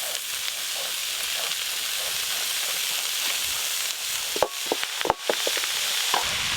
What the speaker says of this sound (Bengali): এই যে আলু আর কচু একটু ভালো করে ভাজা ভাজা করে নিয়েছি, এর ওপর দিয়ে কেটে ধুয়ে রাখা পালং শাক দিয়ে দেবো।